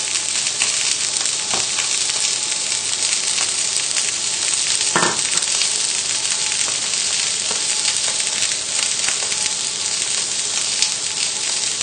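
Steak sears in a hot pan, a loud, constant close-up sizzle and crackle of fat with a few brief knocks and pops, no voices over it.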